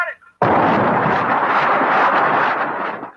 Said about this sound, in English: These are the explosions as we filmed them for this report.